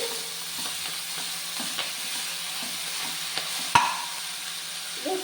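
Chopped amaranth greens are stirred in a sizzling pan, a continuous frying hiss with soft repeated scraping strokes of the spoon and one sharp tap partway through.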